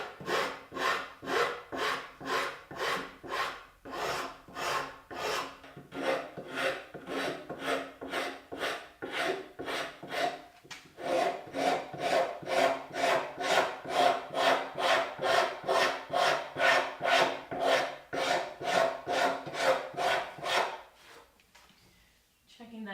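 A spokeshave fairs the bandsawn curves of a wooden guitar body in steady, rhythmic rasping strokes, close and repetitive, with the pace quickening midway before the strokes stop near the end.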